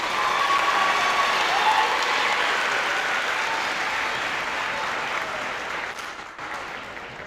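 A middle school promotion ceremony audience applauds its award winners, a loud, continuous crowd clapping that holds steady for several seconds, then thins and tapers slightly near the end.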